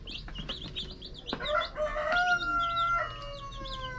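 Newly hatched chicks peep in rapid, high, overlapping chirps close by, while a deeper, drawn-out fowl call rises and falls through the middle.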